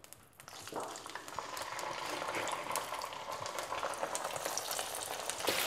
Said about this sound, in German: Und während der Victoria-Barsch am Braten ist